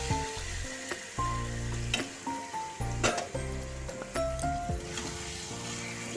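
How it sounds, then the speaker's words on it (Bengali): Chicken pieces added to a pan of softened onions and tomato, cooked over a medium gas flame, give a steady close sizzle with faint clinks of stirring. Background music plays over the frying. "চিকেনটা দিয়ে গ্যাসটা মিডিয়ামে রেখে গ্যাসের আঁচটা তাকে ভালো করে কিছুক্ষণ কষিয়ে নেব।"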